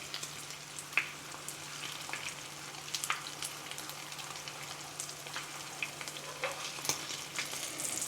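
A folded tortilla taco shell frying in hot oil, a soft continuous crackling sizzle with scattered pops, close and fairly quiet over a low steady hum, no voices.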